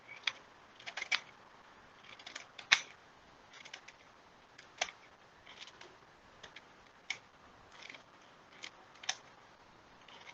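Nori seaweed is snipped with a cutting tool in a kitchen, giving scattered sharp crisp clicks and snips that come singly and in small clusters against near silence, with no talk.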